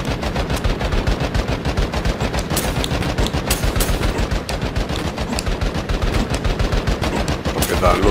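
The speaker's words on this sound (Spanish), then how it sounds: "Se me ha cambiado el ritmo del disparo y la hemos liado." Sustained rapid gunfire from the video game Iron Meat, dense automatic bursts hammering on without a break, loud and close for the whole stretch.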